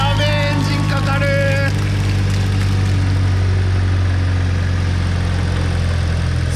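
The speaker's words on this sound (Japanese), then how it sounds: "アイドリングしてます" A flood-damaged Nissan Silvia-based Sileighty with an S15 front, its engine freshly revived after being submerged, idles steadily with a low continuous rumble, loud and close, after a brief burst of higher tones at the start.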